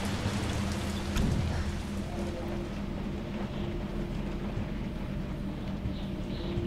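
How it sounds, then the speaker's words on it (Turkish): Steady rain in a video game, Resident Evil 3, pattering on a surface with a low rumble beneath, continuous and even throughout, no one speaking. "Şurada yağmur var."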